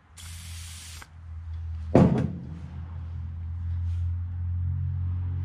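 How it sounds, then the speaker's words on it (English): A short aerosol burst of lubricant sprayed onto parts of a Morris J2 commercial van, a sharp hiss of about one second, followed by a clunk of handling, with a low engine-like drone humming throughout. "So we'll give it a squirt."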